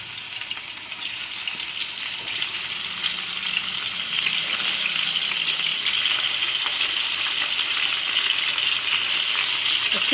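Tomatoes fry in hot oil in a kadai with a steady, close hiss and crackle that grows slightly louder partway through, with no talking.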